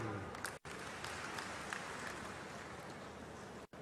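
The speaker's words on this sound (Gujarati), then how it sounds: "એમના માટે એક તાળી પાડી દો" An audience applauds at a district event in Banaskantha, Gujarat, launching recharge well construction. Dense clapping holds steady and close, with two brief gaps.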